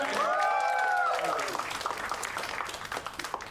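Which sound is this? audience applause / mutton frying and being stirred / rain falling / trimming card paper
audience applause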